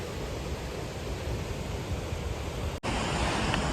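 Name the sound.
fast-flowing mountain river water rushing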